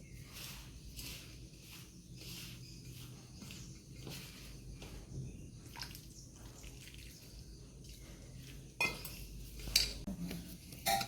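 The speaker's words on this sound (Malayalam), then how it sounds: "ഉപ്പിട്ടൊന്ന് ഇളക്കി കൊടുത്തതിന് ശേഷം വെള്ളം ഒഴിച്ച് കുഴക്കാം" Rice flour being mixed and kneaded with salt and water in a bowl, giving soft repeated clinks and wet squishing in a steady rhythm, close by, with louder scraping bursts near the end.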